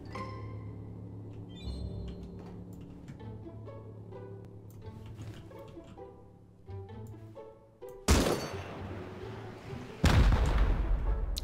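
Gunfire in the survival game Rust cracks out in two loud, close bursts near the end, following a stretch of music and scattered game sounds.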